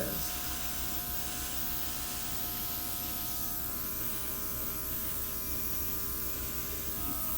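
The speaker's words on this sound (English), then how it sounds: "Let me just take my airbrush and see if there's anything happening here." An airbrush sprays over a metallic acrylic Dutch pour, producing a continuous close hiss over a faint buzzing hum that stays steady throughout.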